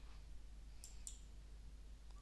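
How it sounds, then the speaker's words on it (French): A single F12 key press on a computer keyboard gives two quick, faint clicks, close by, over a quiet steady hum with no talking. "j'appuie déjà sur la touche F12 de mon clavier."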